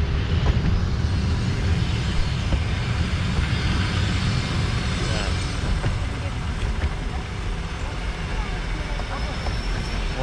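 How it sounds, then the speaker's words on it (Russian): Passenger train 001E Vladivostok–Moscow pulls into Perm 2 station with a loud, continuous low rumble and hiss that holds steady throughout, while people talk nearby. "Ну что, прибыл поезд."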